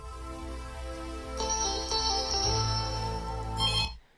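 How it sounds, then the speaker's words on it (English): A telephone rings in a bedroom in a film scene, an electronic tone that grows louder partway through and holds over a low sustained music bed before cutting off abruptly near the end. "We cut over to the phone, which is ringing in the bedroom"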